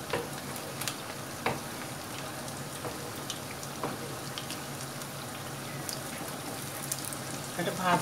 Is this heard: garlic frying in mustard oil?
yes